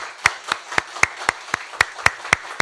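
A church congregation gives a short round of applause during a Sunday worship service. It comes as about ten slow, evenly spaced sharp claps, fairly close and clear, with no voices over them.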